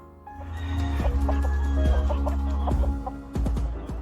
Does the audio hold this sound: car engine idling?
no